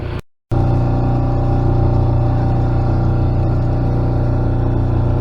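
A sailboat motors under engine power along the cliffs south of Majorca, near Palma. A steady, close engine drone with a low hum runs throughout, broken only by a brief gap near the start, with no talk.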